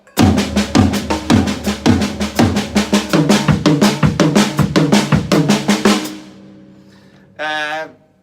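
A drum kit plays a rapid, steady sticking pattern in three-note groupings, loud and close with dense repeated hits for about six seconds, then stops into silence before a short, different burst of sound near the end.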